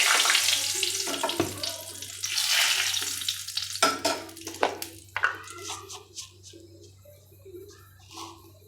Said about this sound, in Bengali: এবার কড়াইতে দিয়ে দিব 2টো গোটা তেজপাতা